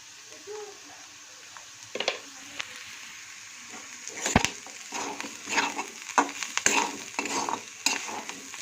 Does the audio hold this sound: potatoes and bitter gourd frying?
yes